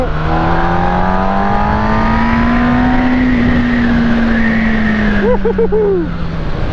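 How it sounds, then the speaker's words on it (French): A sporty car's engine revs up hard under full acceleration, a loud continuous drone climbing steadily in pitch for several seconds before easing, with a brief chirping squeal near the end. "Allez, j'accélère à mon coup."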